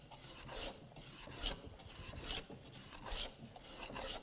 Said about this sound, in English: I'm actually planing against the grain as well